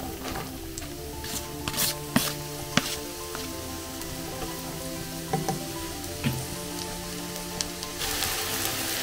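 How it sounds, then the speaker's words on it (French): Mushrooms added to a hot pan for chicken chasseur, crackling into a loud, steady sizzle with sharp pops and spatters throughout, close up and with no one speaking. "Ensuite, je vais mettre les champignons."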